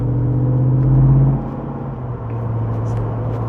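A Jeep Wrangler Rubicon 392 with its Hemi V8 idles close by after its active exhaust is switched off, a deep steady rumble that swells briefly and then settles to a quieter drone.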